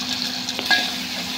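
Chopped onion, green chili and cumin seeds frying in hot oil for a tempering, a soft continuous sizzle with a light scrape and clink of a stirring spoon against the pan, close by.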